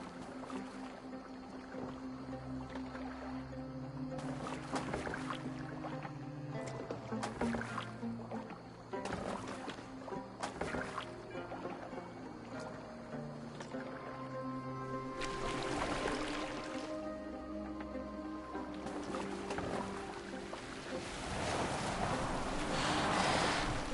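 A rowboat moves across water in the Assassin's Creed video game, with steady splashing and lapping water over a low continuous drone and tonal game music, evenly loud throughout.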